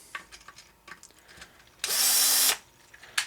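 A power drill whirs in one short burst, well under a second, while tightening a bolt on an HPI Baja SS bracket, amid scattered light handling clicks and taps.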